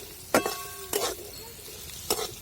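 Raw mango pieces being sautéed in a pan for pickle, with three sharp spatula scrapes against the pan standing out over a low, steady background.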